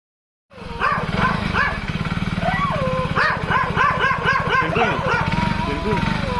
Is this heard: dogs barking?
yes